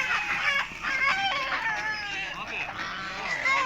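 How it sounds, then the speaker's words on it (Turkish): Chickens cluck and squawk at a poultry and pigeon market in Sakarya. Overlapping calls come and go at close range, with market chatter underneath. "Burada tavuklar var baksana."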